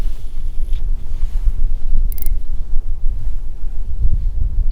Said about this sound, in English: Man, so windy.